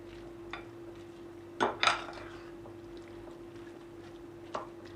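A spoon works through a potato batter with red kapya pepper and flour in a bowl, giving a few soft scrapes and clinks, most of them clustered together, over a quiet steady hum.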